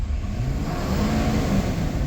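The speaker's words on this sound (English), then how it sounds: "Revs up nicely. Very nice and smooth." A 2015 Ford F-550 XL flatbed ramp truck engine, check engine light on, revs steadily at close range, a low, continuous rumble holding for about two seconds with no voices.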